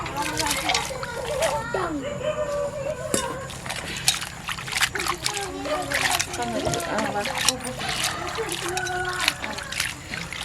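Urad bean pods are washed in a pot of water, giving repeated close splashes, sloshing and trickles in an irregular rhythm, with someone speaking over the water sounds.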